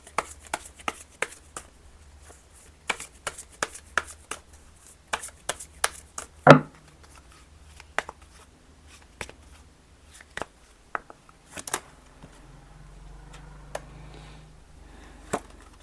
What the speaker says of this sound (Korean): 추가 카드를 뽑아보도록 할게요